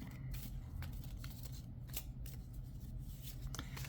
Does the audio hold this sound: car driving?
no